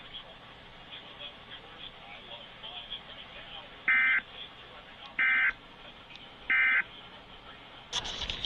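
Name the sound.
Iowa Emergency Alert System test tones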